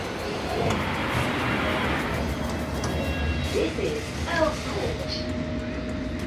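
A London Underground District line train rumbles steadily throughout, a broad continuous roar of the carriage in motion, with faint voices mixed underneath.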